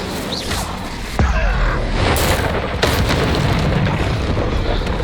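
An Incendio fire spell bursts in the Hogwarts Legacy video game, a loud booming blast with a roaring rush of flame and a second sharp burst soon after.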